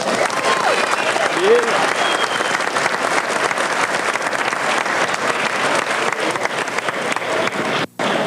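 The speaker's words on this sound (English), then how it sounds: "Let's give both fighters a round of applause." Sustained applause from a crowd after a sambo fight, steady dense clapping filling the whole stretch with a brief dropout near the end, along with some chatter mixed in.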